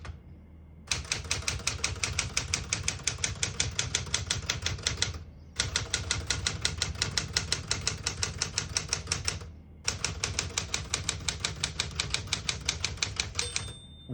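A 1972 Smith-Corona Super Sterling portable typewriter is typed on steadily in three long runs of rapid, even keystrikes, each run broken by a short pause, close and alone with a faint bell-like ring at the end.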